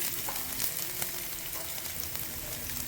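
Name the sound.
chopped garlic frying in a hot pan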